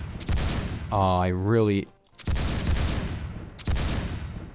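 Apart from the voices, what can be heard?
FAL rifle gunfire in Roblox Phantom Forces video game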